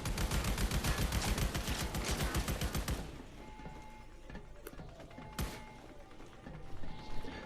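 Rapid automatic gunfire in the video game Army of Two, aboard an aircraft carrier: a dense, loud burst of shots for about three seconds, then scattered single impacts and clanks.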